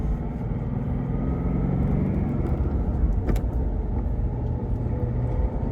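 A Ford Mustang GT's transmission hums and whines steadily from inside the cabin as it accelerates in first gear, a continuous low engine drone with no talking.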